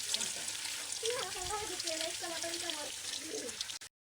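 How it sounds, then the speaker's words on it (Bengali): Potatoes fry in leftover meat-frying oil for chicken pulao, a close continuous sizzle with a voice talking over it before the sound cuts off abruptly. "আলুটা আমি একটু হালকা লাল লাল করে ভেজে নেবো।"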